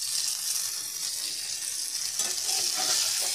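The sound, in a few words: shallow frying shingoli in oil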